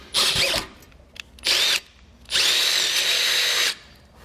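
Power drill boring holes in a steel tow base plate for a 2017 Buick, heard as three close, loud bursts of whining drilling with short pauses between, the last one longest and steady.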